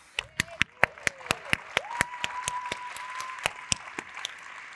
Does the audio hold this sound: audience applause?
yes